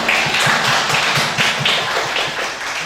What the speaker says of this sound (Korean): 강사님한테는 한 번 더 크게.